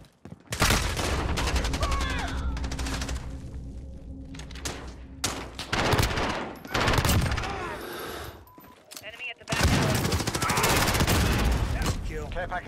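Heavy gunfire during a Call of Duty Modern Warfare multiplayer match: dense automatic bursts and rattling volleys, loud and close, broken by short lulls before another sustained barrage, with game voices faintly underneath.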